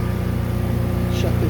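A marine boat engine runs at a steady idle, a close, continuous low rumble with an even pulsing drone and no change in pace.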